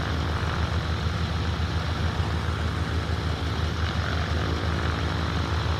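Cessna CT210N propeller engine running in Microsoft Flight Simulator 2024, a steady, even drone with a low rumble and no voices over it.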